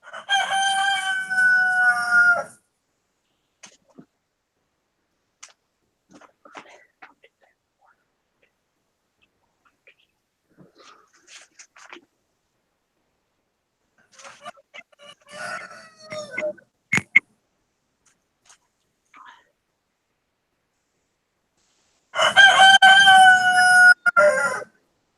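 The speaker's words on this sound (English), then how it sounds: "Yeah, Steve, I know why you love the roosters. It's because they're noisy like you" Roosters crow loudly at close range, one long harmonic call opening and another closing, with quieter scattered clucks, rustles and faint sounds from nearby fowl in between.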